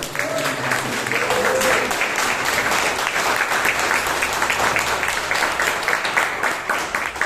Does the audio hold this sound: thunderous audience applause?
yes